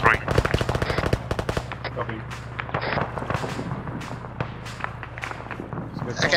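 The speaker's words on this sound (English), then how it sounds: "Hey, we're being shot at." Gunfire rattles in a military video game, with rapid automatic bursts loud and close at the start, then scattered single shots and distant firing while a voice talks over the fight.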